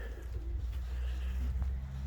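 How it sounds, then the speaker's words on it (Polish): Pigeons in a breeder's loft give low, rolling coos at a faint, steady level, a continuous soft murmur from nearby birds. "Bardzo piękne gołębie. Zadbane, czyściutkie, piękne w rękach, ułożone."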